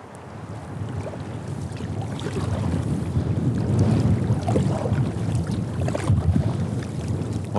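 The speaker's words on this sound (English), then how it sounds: "it is a little bit breezy out here once I got out of that sheltered little area where I started out today" Breezy winter wind blows over a river while fishing from a small boat, a steady close rushing noise that builds slightly toward the middle, with faint water sounds beneath.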